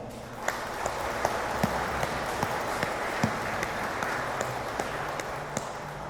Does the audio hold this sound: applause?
yes